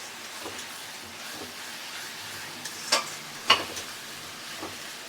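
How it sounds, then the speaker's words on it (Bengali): Onions and spices stirred into oil in a pan for a mutton curry, a quiet sizzle with a few sharp scrapes and clinks of the spoon, close by. "এবার ভালো করে এটাকে আমি তেলের সঙ্গে মিশিয়ে নেব যাতে সুন্দরভাবে ভাজাটা হয়"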